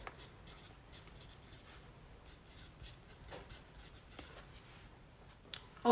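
A pen writing in a ring-bound inventory notebook, faint close scratching strokes in short bursts with brief pauses, quiet throughout.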